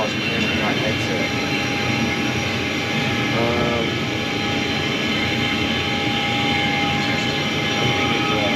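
Steady jet engine drone from a 737 home flight simulator, a loud continuous roar with a sustained tonal whine, unchanging across the whole stretch, with a voice speaking briefly over it.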